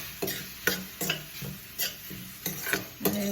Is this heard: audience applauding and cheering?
no